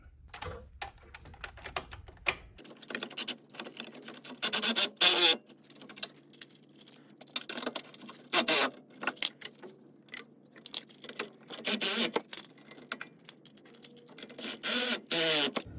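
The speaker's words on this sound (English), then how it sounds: "I'm gonna secure them with the ratchet." Wheel bearing bolts on a 2009-2012 Nissan Altima 2.5 being tightened with a hand ratchet, giving repeated bursts of rapid close clicking separated by brief pauses, with quiet handling noise between strokes.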